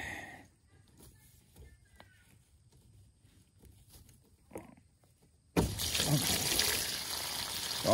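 Water drains out of a water ram pump and starts suddenly as a loud, steady rushing gush after a quiet stretch of faint trickles and voice.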